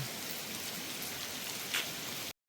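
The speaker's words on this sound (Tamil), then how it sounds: "இப்போ கொஞ்சம் கூடுதலாக மழை பெய்து கொண்டிருக்குது" Steady rain, now falling a little heavier, comes down as a dense, even hiss of drops close by, unbroken and without voices, before cutting out abruptly.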